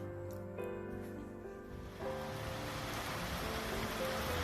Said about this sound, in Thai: ตอนนี้ฝนเริ่มตกแล้วครับ